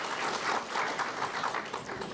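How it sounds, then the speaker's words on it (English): An audience claps steadily for visiting scholars at UMBC, a dense, moderately loud patter of many hands with no voices. "So give them a round of applause for being here."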